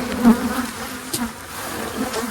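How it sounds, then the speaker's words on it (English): Honey bees buzz around an open beehive, a close, continuous drone with individual bees swelling louder as they pass near. "take some extra bees into this hive as well"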